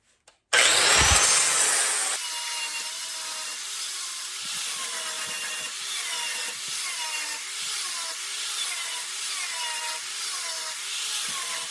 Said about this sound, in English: I'm going to use a 60 grit flat disc to grind my welds down.